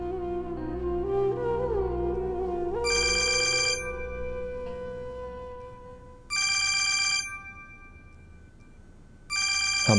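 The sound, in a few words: phone ringtone, incoming call from Hamad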